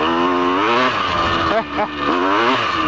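A motorcycle revs in place, its engine climbing and dipping in pitch across the short burst while a voice talks briefly over it.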